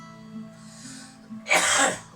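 A single harsh cough bursts out near the end, loud and close, after a stretch of quiet low murmuring.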